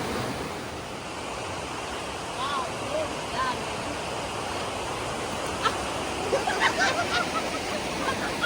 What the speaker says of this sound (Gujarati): આ મસ્ત ધોધ જો